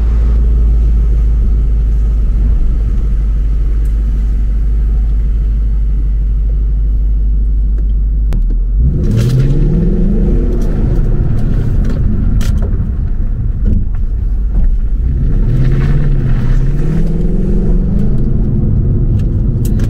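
A Ford Mustang 5.0 V8 engine running on E85 flex fuel idles with a deep rumble, then revs up twice with rising roars heard from inside the car.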